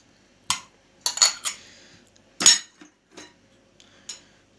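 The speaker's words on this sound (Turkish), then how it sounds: "şimdi oda sıcaklığında beklemiş olan margarinimizi boşaltalım" Spoon clinks against a bowl while room-temperature margarine is emptied in, a few sharp close metallic taps and scrapes in quick bursts with quiet gaps between.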